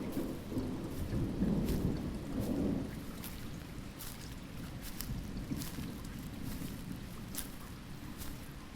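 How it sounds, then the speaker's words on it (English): Far-off thunder mutters as a soft low rumble early on, then recedes beneath a constant hiss of rain and scattered sharp drops. "The gentle dust is disturbed by a yet distant mutter of thunder."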